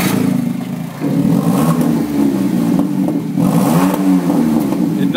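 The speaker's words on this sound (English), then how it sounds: "Customer complained about exhaust problems, exhaust noise." A 2008 Smart car engine starting up and idling with a rough, raspy exhaust leak, a loud continuous low rumble that swells and surges at close range with no talking.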